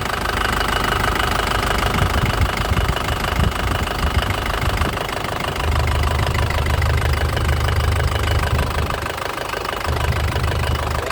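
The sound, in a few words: Isuzu Panther LS Turbo 2007 engine running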